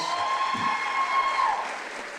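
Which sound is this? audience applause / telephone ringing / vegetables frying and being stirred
audience applause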